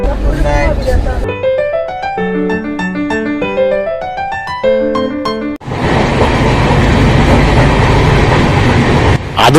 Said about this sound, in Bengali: আধুনিক কোচ বিশিষ্ট এই ট্রেনটি কিন্তু বেশ জোরেই ছুটছে